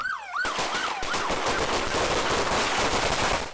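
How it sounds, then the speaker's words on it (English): Rapid gunfire erupts in an alleyway during a police shootout recorded on body camera, a dense, loud volley of overlapping shots following the brief wail of a siren at the start. "The officers say Hilarious shot several rounds at them, and they quickly returned fire in this alleyway, 125 shots in all"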